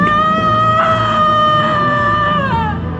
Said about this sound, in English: The woman's voice screamed.